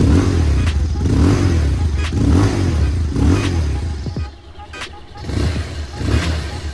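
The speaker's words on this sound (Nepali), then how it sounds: "सबैभन्दा पहिला यसको एक्जस्टको साउन्ड सुनम कस्तो छ।" A Bajaj Pulsar 220F motorcycle exhaust idles and revs nearby, a loud, throbbing rumble that swells and settles in several blips, with a brief dip before it picks up again.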